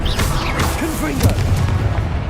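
Booming fire-blast bursts from the Confringo spell in Hogwarts Legacy, repeated punchy impacts over a busy game soundscape, with spoken spell incantations mixed in.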